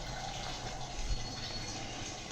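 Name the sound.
water filling cans from the supply tap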